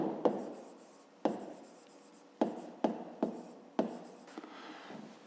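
Pen scratching numbers onto paper during a fifth-grade maths exercise, heard as several short, close strokes in separate bursts with brief pauses between, with no speech over them.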